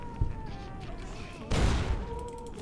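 Turrets firing in a video game, a sharp report near the start followed by a heavier burst of fire about halfway through, over a steady tonal background hum.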